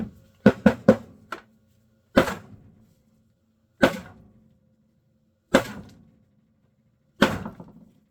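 Heavy metallic strikes ring out close by as a hammer beats a stuck metal plate in a Carrier HVAC blower housing: a quick burst of four blows, then four slower single hits spaced a second or two apart, each with a short ringing decay.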